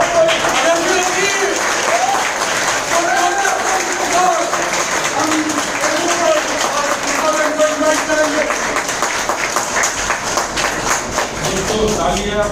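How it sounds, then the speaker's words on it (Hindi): Applause from an audience at a meeting in a hotel, many hands clapping steadily through the whole stretch while someone speaks loudly over it, likely through a microphone. "तालियां बहुत बजाई"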